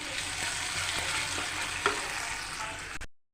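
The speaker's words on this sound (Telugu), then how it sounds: "ఉల్లాక బాగా వేగింది కదా ఇప్పుడు దీంట్లో అల్లం వేసి ఒకసారి బాగా కలుపుకోవాలి" Ginger stirred into spring onion leaves frying in a pan gives a loud, steady sizzle with a few soft scraping clicks of stirring, heard alone and close.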